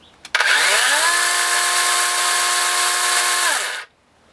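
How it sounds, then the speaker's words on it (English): A Volt electric chainsaw cutting wood revs up, runs steadily at a high whine for about three seconds, then winds down and stops. Loud and close, no talking. "this little electrical chainsaw that I bought, as well as this wood cutting station"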